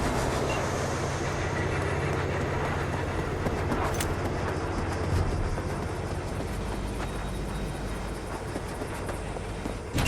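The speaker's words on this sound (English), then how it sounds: "the train's leaving" A train in Cyberpunk 2077 pulls away, giving a steady, loud rumble with a clattering undertone and a brief sharp knock partway through, with no voices over it.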